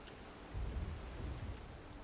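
A stormy ocean scene in Valheim brings a quiet, steady wash of rain with a low rumble of thunder rolling underneath, faint and continuous throughout.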